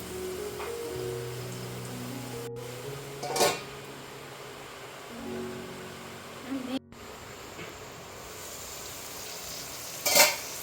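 Masala sizzles and fries in a pan as it is stirred, a soft continuous crackle with a few louder scrapes of a spoon, while a voice talks in the background.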